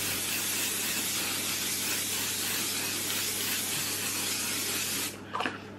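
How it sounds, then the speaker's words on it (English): Cosmetic setting spray misted from an aerosol can, a steady close hiss lasting about five seconds before cutting off, followed by a brief faint rustle. "this setting spray off TikTok shop is literally the one."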